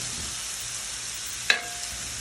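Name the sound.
stirring a cooking shrimp, sausage and vegetable mixture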